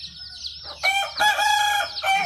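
Hungry chickens in a home chicken-rearing yard; a rooster lets out a loud, drawn-out crow close by, following soft clucking, then a second crow.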